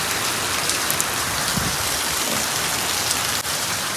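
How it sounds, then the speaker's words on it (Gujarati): Heavy midday rain pours down in a steady, dense hiss of countless drops striking surfaces, loud and unbroken throughout with no voices. "અત્યારે તો ફૂલ વરસાદ ચાલુ છે"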